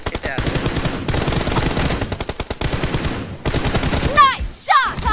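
Gunfire in a shooter video game during a one-on-one team deathmatch, with loud, close bursts of rapid automatic fire in quick runs and short gaps, and a couple of whooshing effects near the end.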